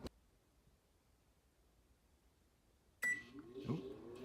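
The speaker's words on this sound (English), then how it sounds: "Here is my microwave that is shorted out, that is starting on its own." GE microwave oven with a shorted keypad switching itself on after a quiet stretch: a sudden electronic beep followed by the hum and whirr of the oven running.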